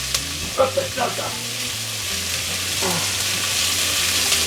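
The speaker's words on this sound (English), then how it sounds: "You gotta stir it so it's light brown. You gotta keep stirring it." Rice browning in oil in a frying pan for Spanish rice, a loud continuous sizzle with a few spoon scrapes early on as it is stirred.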